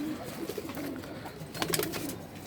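Several Indian Kaldom pigeons give low, rolling coos close by, a few spaced calls building to a louder cluster near the end, with no speech.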